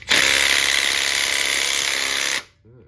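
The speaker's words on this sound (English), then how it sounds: "got the baby impact here with the 6mm Allen on" A small impact driver with a 6mm Allen bit hammers steadily on a tight pulley bolt of a 1.8T engine in a Rabbit pickup, one loud continuous buzzing burst of about two and a half seconds that stops abruptly, then a brief faint rattle.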